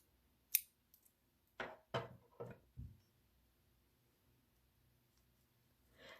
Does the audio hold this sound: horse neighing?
no